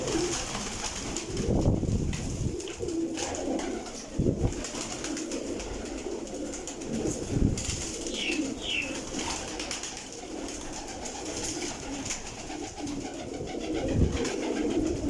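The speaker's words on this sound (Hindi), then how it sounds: "350 कबूतर माशाल्लाह जी।" Pigeons coo softly in the background at a loft of about 350 pigeons in Sarai Alamgir, low repeated calls spread across the clip amid faint ambient noise.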